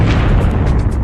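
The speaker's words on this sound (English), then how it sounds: "The explosion is a supernova, an immense burst of radiation that briefly outshines an entire galaxy." Supernova explosion sound effect, a loud sustained deep rumbling boom with dense low roar filling the whole moment, no voices.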